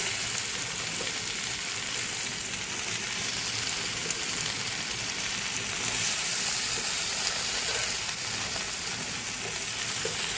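A fried fish head goes into a hot pan and sizzles, giving a loud, dense, continuous frying hiss with a soft bubbling underneath.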